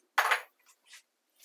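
Washed, chopped cabbage for a Jaffna-style salad is tossed in a bowl with a utensil, giving one bright clinking scrape followed by two softer brief clinks, close up and with no talk.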